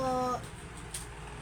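A single short, tonal meow right at the start, followed by quiet background.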